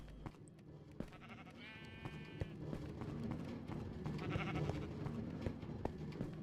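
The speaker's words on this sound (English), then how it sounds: "So I'm just going to check the sheep." A Minecraft sheep on a farm lets out a single clear bleat, surrounded by soft game ambience and faint footstep-like clicks, with no talking.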